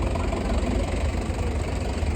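A tractor engine idles close by in a steady, loud low rumble with an even, throbbing texture, heard alone throughout the short stretch.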